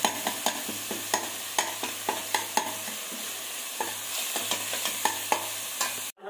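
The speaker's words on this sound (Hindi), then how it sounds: "इसमें हम डालेंगे हरी मिर्ची और लहसुन, इसको हम थोड़ी देर तक पकने देंगे जब तक लाल नहीं होता।" Green chilies and garlic fry in a pan with a steady crackling sizzle, while a utensil stirs them with regular scraping strokes, close and alone without talk.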